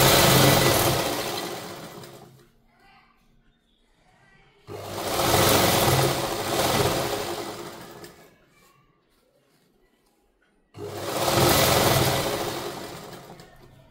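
A sewing machine stitching a folded strip onto a saree, three bursts of rapid whirring stitches of a few seconds each, separated by quiet pauses where faint handling noises are heard.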